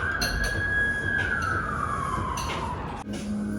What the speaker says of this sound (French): Ben là, on va fermer l'ambiance des sirènes.